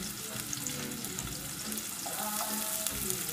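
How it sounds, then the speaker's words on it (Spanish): Celery frying in a pan and stirred with a wooden spoon, a steady close sizzle with light scraping, nothing else over it, while ingredients go in for a mussel soup. "Esta es la cuchara de madera. Removemos."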